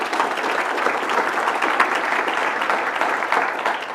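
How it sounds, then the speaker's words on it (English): Attendees at a Moreno Valley State of the City address applaud in a steady round of clapping, a dense and fairly loud patter that holds for several seconds without speech. "Would you give Dennis Rice a round of applause?"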